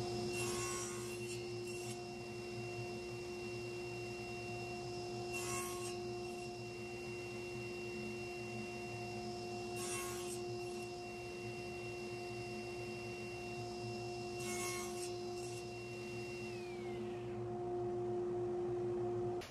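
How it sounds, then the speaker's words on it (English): A tool cuts wooden splines into oak picture frame corners, a steady humming drone with four short bursts of cutting spaced evenly apart, with no talk. "Let's go ahead and start cutting these splines."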